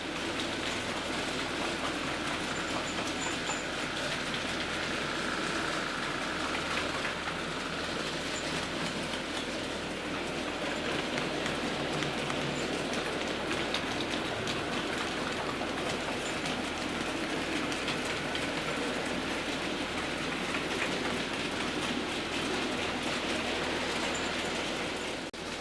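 Four analogue DC model train locomotives running together on a layout, giving a steady close whirring rumble with faint rail clatter that holds evenly throughout, no voices.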